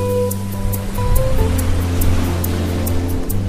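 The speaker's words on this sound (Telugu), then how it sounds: "ఎలా ఈ అలలు పైకి కిందకి ఎగసి పడుతూ ఒట్టుకొచ్చి చేరుతాయి" Ocean waves rolling up and falling back on the shore, a steady loud rush of surf with a low hum running beneath it.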